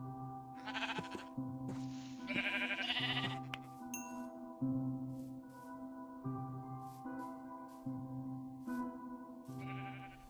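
Repeated bleats from a sheep in Minecraft, a few short wavering cries spaced across the clip, mixed in with steady background game music, with no talking.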